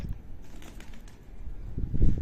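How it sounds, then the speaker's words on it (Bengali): A pigeon coos softly nearby, then beats its wings in a short, louder burst of flapping toward the end, with little else around it. "কবুতর আসছে কোথার থেকে জানি"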